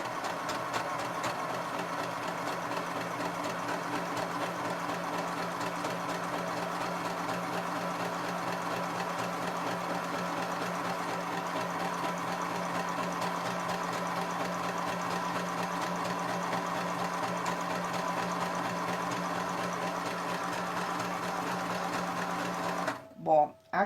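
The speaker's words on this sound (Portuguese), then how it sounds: "Voltei e agora eu vou iniciar a costura de fato." A sewing machine stitches a seam with a steady, continuous mechanical whir and rhythmic needle chatter, close and constant for the whole stretch, stopping abruptly near the end.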